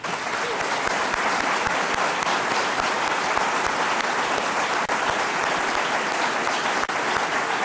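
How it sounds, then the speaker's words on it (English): Full audience at an evening humanitarian studies event gives a tremendous sustained round of applause, a dense, even roar of clapping filling the whole stretch with no break. "join me in a tremendous round of applause for two wonderful voices on the side of freedom."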